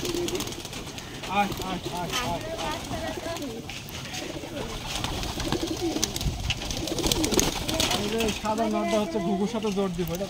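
Pigeons cooing at a crowded pigeon market among many kinds of pigeons, soft rolling coos repeating under busy chatter, people talking and mechanical rattling nearby.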